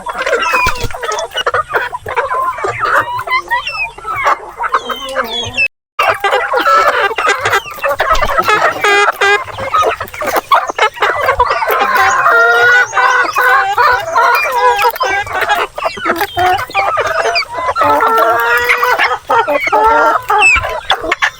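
A flock of Black Australorp and Rhode Island Red chickens clucks busily and continuously at a feeding spot, loud and close, with overlapping calls and an occasional rooster crow in the mix.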